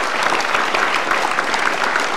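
Audience applause at an Indonesian televised event welcoming a presidential candidate, a dense steady clatter of many hands clapping throughout, close and loud with no speech over it.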